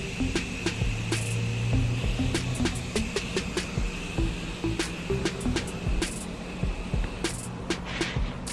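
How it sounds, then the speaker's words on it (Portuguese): Gas hissing steadily out of an aerosol spray paint can as it is emptied, a continuous close hiss with scattered clicks and taps over about eight seconds. "Tirar todo o gás do spray."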